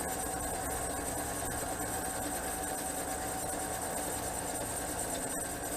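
A metal lathe machines the small washer-head undercut at the base of a high crown dome head bolt, giving off a steady, fairly quiet mechanical hum and whir with faint tool chatter and no voices.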